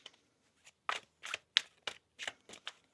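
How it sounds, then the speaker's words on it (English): Tarot cards are shuffled by hand in a quiet room, a run of about eight short, crisp riffling bursts in quick irregular succession, close and soft, with no voice over them. "One more shuffle."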